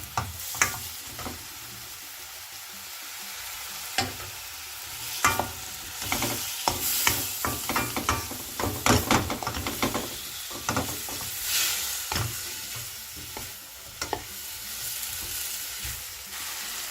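Prawns and vegetables sizzle steadily in a frying pan while a utensil stirs and scrapes them in irregular bursts, close and moderately loud.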